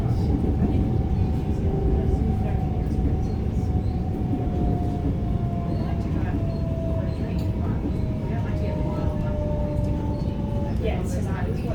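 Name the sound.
Metro train travelling between stations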